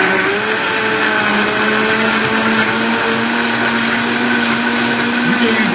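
A blender whirs steadily through a frozen mango smoothie, a loud, constant motor drone that stays even from start to finish.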